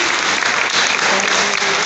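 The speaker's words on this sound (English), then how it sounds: "So please give everybody a round of applause." A crowd applauds the CERT team at a Los Angeles City Fire Department Fire Service Day at Fire Station 88. The clapping is loud, dense and continuous, and nothing rises above it.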